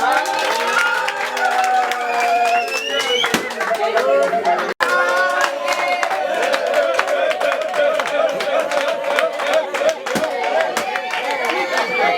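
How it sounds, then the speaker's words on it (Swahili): An audience at a gospel performance breaks into applause, with clapping and crowd chatter. Loud, continuous singing and talk ring over it and largely bury the hands. "makofi kwa hiyo."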